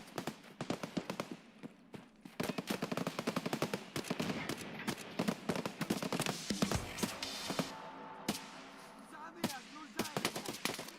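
Another player's gunfire in a shooter video game: rapid, fairly faint bursts of sharp shots that crackle almost continuously, with brief pauses between volleys.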